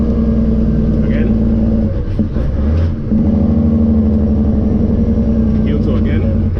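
A cold truck engine rumbles steadily up close while the driver tries heel-toe throttle work, its drone briefly dipping and shifting pitch midway before settling back into a loud, constant rumble.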